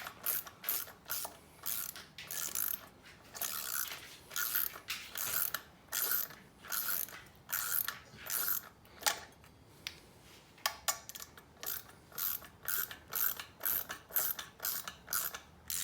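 Ratchet wrench tightens bolts on an LS 5.3 water pump, rapid clicking bursts repeated in steady strokes with short pauses, close and clear with no talking.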